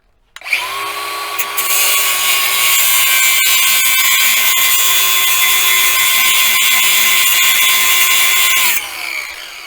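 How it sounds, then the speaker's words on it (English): An angle grinder cuts a flat edge on the steel shaft of a billet shift knob for a Kawasaki KRX 1000, starting up and then holding a loud, steady high whine for several seconds before spinning down. "Let me grab the grinder one more time."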